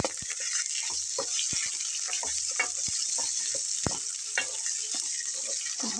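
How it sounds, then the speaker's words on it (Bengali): Potatoes, onion and bay leaf fry in oil in a pan with a steady close sizzle, punctuated by soft stirring clicks throughout. "পেঁয়াজটা একটু এরকম হালকা ব্রাউন কালার চলে আসলে আমি এখানে আলুটা দিয়ে নেব।"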